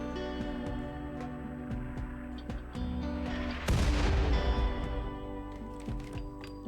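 Video-game mortar fire, with a steady low mechanical drone carrying scattered thuds, then a loud booming impact that rumbles and fades, followed by lighter distant pops.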